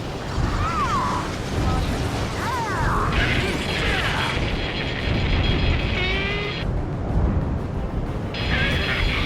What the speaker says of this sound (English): Confirming explosions. The rail cannon's been destroyed.